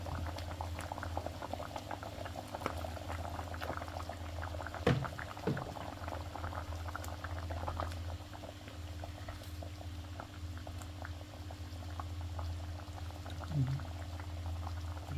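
Salmon curry simmering in a pot, a steady low bubbling boil with soft liquid plops throughout, plus a couple of faint clinks of a utensil or lid.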